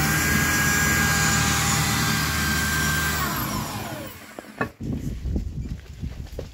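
Power drill boring holes in a metal plate for a camper van chassis, a loud steady whine whose pitch sweeps as the motor slows and stops, followed by rattling and handling noise.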